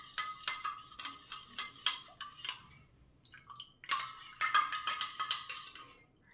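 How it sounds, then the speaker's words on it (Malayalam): A spoon stirs milk and condensed milk in a glass, clinking rhythmically against the sides in quick bursts, with a short pause before the stirring resumes; close and clear, with no talking. "ഒരു സ്പൂൺ കൊണ്ട് പാലും കണ്ടൻസ്ഡ് മിൽക്കും കൂടെ ഒന്ന് മിക്സ് ചെയ്യാം"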